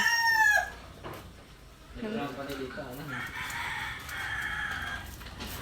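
Chickens cluck and a rooster crows nearby, including a mother hen, with a person speaking briefly over the birds.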